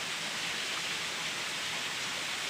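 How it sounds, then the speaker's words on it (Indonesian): Water seeps and drips like rain near the Mlangen Kokok waterfall in Ponorogo, a dense, even hiss of falling water that holds steady throughout with no voices. "Di sini banyak resapan air, kayak air hujan."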